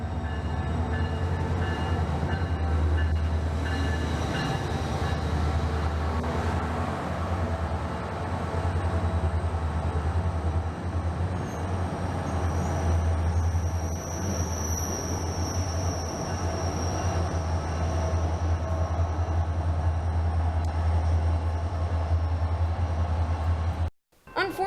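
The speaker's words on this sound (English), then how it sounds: "as this Sunrail train cleared the station" SunRail commuter train pulling out of a Central Florida station, a steady loud rumble of wheels and cars passing close by with squealing wheels and a brief high whine, ending abruptly.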